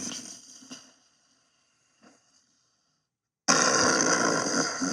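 A voice mimics a sleeping sound that comes out like a fart: a short grunting, burp-like noise with a faint second puff, then silence before loud broadband noise returns.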